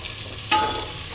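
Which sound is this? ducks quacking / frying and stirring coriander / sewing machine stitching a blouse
frying and stirring coriander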